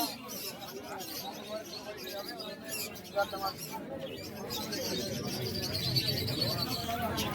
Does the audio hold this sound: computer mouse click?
no